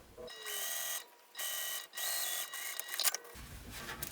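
A sewing machine top-stitches across a zipper seam on a fabric pouch in three close, steady whirring runs, each about a second long, with short pauses and small clicks between them.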